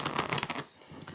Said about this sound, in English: let us shuffle a little bit more